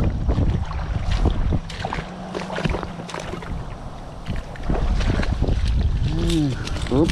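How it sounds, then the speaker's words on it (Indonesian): Wind buffets the microphone in low rumbling gusts, with people talking intermittently over it and water sloshing nearby while fishing for mahseer on a clear-water river in Taiwan. "anginnya berarti ya, maaf nanti kalau suaranya berisik"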